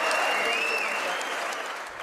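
Loud, dense applause from a large crowd at the US Congress for the American president, steady clapping that fades slightly toward the end.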